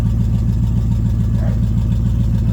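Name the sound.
1984 Chevrolet C10 truck engine running after cold start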